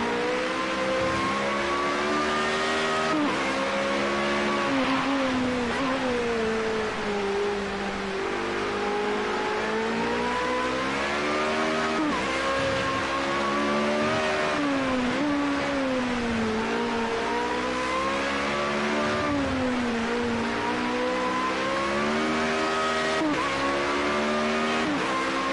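A Formula Renault single-seater in Project Cars 2 at Hockenheim National screams loudly and close throughout, its high-revving engine note rising and falling with each gear change and corner, with faint tyre scrubbing underneath.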